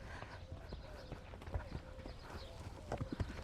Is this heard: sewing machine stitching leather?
no